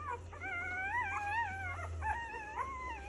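Newborn puppies in their first week whimper and cry to eat, with high wavering whines and yips rising and falling close by over a low steady hum.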